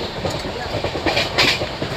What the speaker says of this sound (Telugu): మన ట్రైన్ అయితే మిర్యాలగూడ రైల్వే స్టేషన్కి అయితే వచ్చేసిందండి